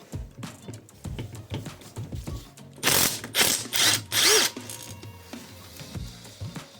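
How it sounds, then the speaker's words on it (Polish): A ratchet clicks steadily as it unscrews the first bolt from a Junak 50cc two-stroke scooter engine, with close, loud bursts of rapid ratcheting in the middle amid smaller metallic workshop handling noises. "Odkręcam pierwszą śrubkę."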